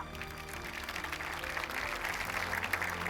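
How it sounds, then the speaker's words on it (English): Applause from a ceremony audience at the Zayed Award for Human Fraternity 2025 at the Founders Memorial in Abu Dhabi. It rises into a dense, steady wash of clapping that lasts throughout, with faint tonal sound beneath. "Please join me in giving them another round of applause."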